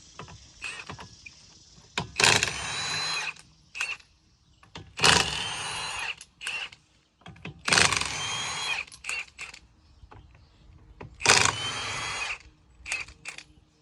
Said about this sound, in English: now we're going to use a big old impact, get these tires off